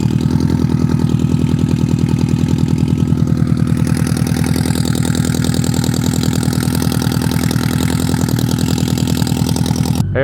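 A cafe racer motorcycle engine idles steadily and loudly after starting, a close, even thrum with rapid firing pulses and no voices.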